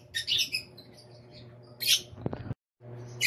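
Small birds in a flight cage give bursts of high, bright chirps and squeaks near the start and again near the middle, over a low steady background hum, with brief handling noises before a short pause.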